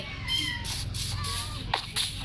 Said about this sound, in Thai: นี่ตัวอะไรเนี่ยอ๋อแมว